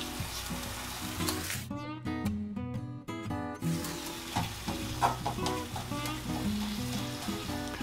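Pasta cooking in a pot of boiling water on the stove, with a steady bubbling, sizzling wash throughout and a few brief sharper clatters near the start, fairly close and moderately loud with no talking.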